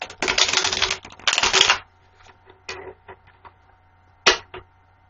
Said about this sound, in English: I'm going to shuffle the card